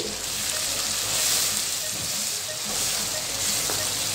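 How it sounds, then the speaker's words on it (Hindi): Ground spices and garam masala fry in hot oil for brinjal biryani while being stirred, giving a continuous close sizzle and hiss with occasional soft scrapes of a spoon against the pan. "आइए अब हम इनको अच्छे तरीके से मिक्स करते हैं।"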